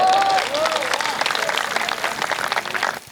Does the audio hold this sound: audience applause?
yes